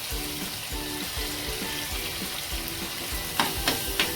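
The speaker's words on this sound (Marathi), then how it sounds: "तर हे छान असं फ्राय झालेलं आहे मसाला आणि अगदी छान तेल सुटलेलं आहे." Masala frying in oil in a pan for a soybean curry, a steady dense sizzle throughout, with a few sharper crackles and spatters near the end.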